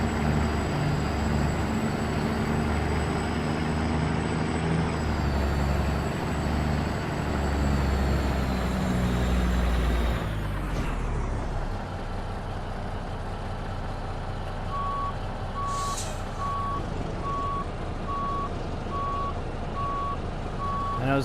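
A truck reverses a trailer in American Truck Simulator, its engine droning steadily while a reversing alarm beeps in a regular, even rhythm through the second half, with a brief clunk partway through.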